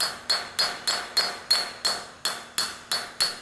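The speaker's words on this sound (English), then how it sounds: "Just take a hammer and you just want to lightly tap it." A hammer lightly taps a planter marker part into place, about a dozen evenly spaced, ringing metallic knocks, close and clear with no talking.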